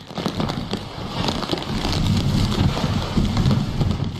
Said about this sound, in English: Heavy rain turned Tai O into a swamp.